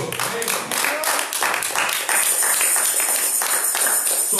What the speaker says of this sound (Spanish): ¿Por qué no damos un aplauso al Señor?